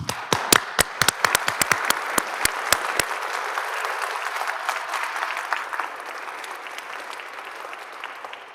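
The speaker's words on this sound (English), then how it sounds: "Please join me in a round of applause." Loud applause from a congregation at a Catholic school Mass, starting with sharp individual claps and swelling into steady, dense clapping that continues throughout.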